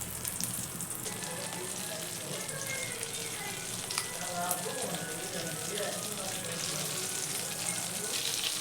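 A paste of ground tomato, onion, ginger and garlic sizzles steadily in melted butter in a pan for paneer butter masala, a loud continuous fry with occasional stirring scrapes throughout.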